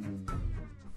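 A dog gives a short cat-like meow, a brief tonal whine standing out from steady room noise, close and fairly quiet.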